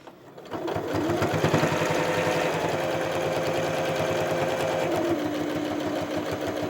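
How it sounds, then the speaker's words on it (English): After a short start, a sewing machine runs continuously and close by, stitching a quilt binding corner with a steady rapid rattle. "I'm going to finish sewing this corner"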